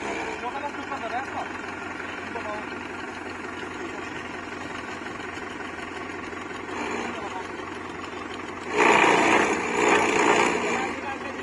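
Farmtrac 6055 tractor engine working a rotavator in a field, a steady droning run with a louder surge of power near the end, while people talk over it.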